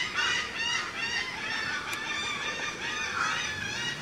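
Flamingos at a bird garden honking together, a dense steady chorus of nasal, goose-like calls layered over one another, close and fairly loud throughout with no talking.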